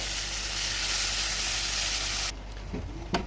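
Red amaranth leaves drop into hot oil spiced with chilli and turmeric, a loud steady sizzle that holds for about two seconds before cutting off sharply, followed by a few quiet stirring clinks.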